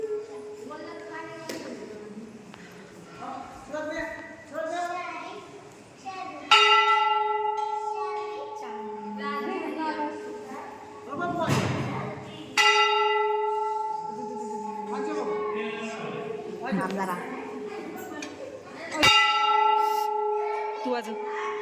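A temple bell at a village fair (yatra) in Varkhadwadi is struck three times at spaced intervals, each ring leaving a bright, sustained metallic tone that lingers and decays while children and adults chatter nearby.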